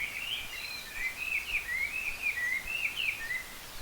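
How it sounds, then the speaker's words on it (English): A hwamei (Chinese laughing thrush) sings a continuous, varied warbling song of quick whistled phrases, fairly close, over a light background hiss, on Kaua'i. "The huame was brought from China as a cage bird, then released."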